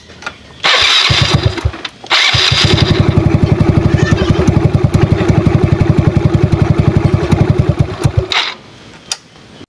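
A Yamaha Mio Sporty scooter engine, just fitted with a new ignition switch, cranks in two short bursts and then catches, settling into a loud, close, steady putter of rapid firing pulses before cutting off.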